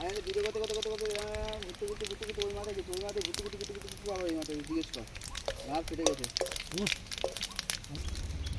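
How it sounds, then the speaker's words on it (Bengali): Bay leaf, mustard seeds, cumin and dried chilli crackle and sizzle in hot mustard oil outdoors by a pond, a steady frying hiss under someone talking throughout. "সর্ষের তেল ফোড়নে দিয়ে দিলাম তেজপাতা সর্ষে জিরে আর শুকনো লঙ্কা"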